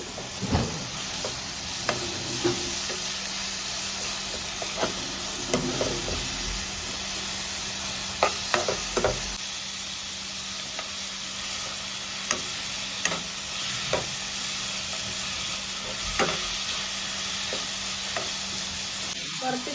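Onion, garlic, ginger paste and green chilli sizzle steadily in a hot pan while a spoon stirs and scrapes at irregular intervals, with a constant frying hiss and no talking.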